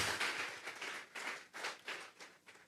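A church congregation at Sunday worship clapping hands as an offering: faint, distant rounds of applause that swell and fade in uneven waves.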